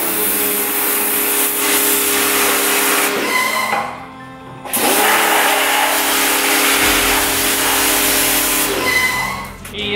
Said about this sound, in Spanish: Voy a tratar de darle con la hidro a ver si sale directamente en vez de ponerme a cepillar todo.